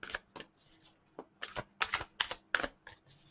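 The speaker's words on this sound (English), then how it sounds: "shuffle the cards a bit longer" Soft papery riffling of cards being shuffled, a series of quick irregular bursts with brief pauses between them, close and fairly quiet.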